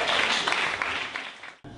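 A large audience at a Jewish food festival's comedy panel game claps in broad, steady applause that holds loudly for over a second before breaking off abruptly.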